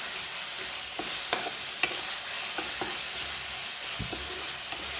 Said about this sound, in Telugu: ఒక స్పూను అల్లం వెల్లుల్లి పేస్ట్ వేస్తున్నాను ఇది కూడా చక్కగా వేయించుకుందాం